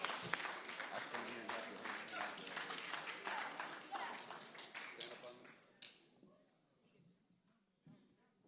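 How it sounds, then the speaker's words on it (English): A school awards-ceremony audience applauds the middle school volleyball team, with dense, steady clapping for about six seconds before it fades to scattered claps and quiet chatter. "Let's give them a nice round of applause"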